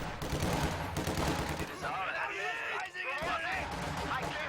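MG42 machine gun fire in Company of Heroes 2 crackles in rapid bursts behind a caster's steady commentary and stays partly masked by the talking.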